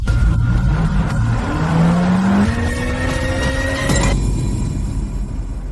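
A car pulls up with a steady engine rumble, a rising whine and a brief tire screech, then settles to a low idle; the sound is close and fairly loud, with no voices.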